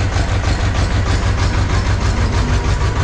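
A farm tractor's diesel engine idles loud and close with a steady low, pulsing rumble that holds even throughout, with no talk over it.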